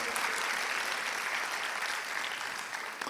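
Audience applauding at a Portuguese-language spiritist lecture on congenital illnesses and spiritual education, a steady dense wash of clapping that stays loud and even throughout, with a slight tail-off near the end.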